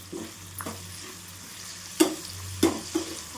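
Tomatoes and tamarind stir-frying in a pan for mint chutney, a steady close sizzle broken by a few sharp scraping clatters of the spatula against the pan.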